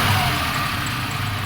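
A 1995 Suzuki Escudo engine runs steadily close by, a continuous mid-to-low mechanical drone with little sign of a sharp rev rise across the short stretch.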